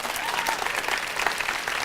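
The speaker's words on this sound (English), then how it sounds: "Can we all give them a round of applause for coming?" An audience at a vegan festival talk applauds with steady, dense clapping throughout, and faint voices mix into the crowd noise.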